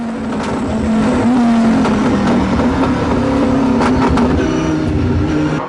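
Onboard a Force One team Dodge Viper GTS, number 60, racing at the Nürburgring 1000 km in 2004: a loud, continuous V10 engine drone holding steady revs with slight pitch shifts, heard close from inside the cockpit.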